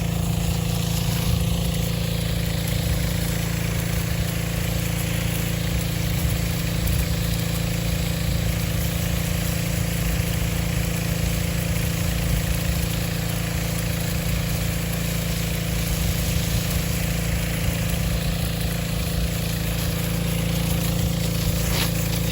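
A truck with a worn-out muffler idles loudly and steadily, its heavy, rumbling engine drone close and continuous for the whole stretch with no talk over it.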